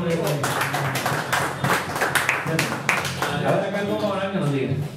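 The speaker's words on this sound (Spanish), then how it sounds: "un aplauso para Manuel Pereira" Audience applause during an interview with a music group, dense clapping over voices and chatter, fairly loud and close throughout.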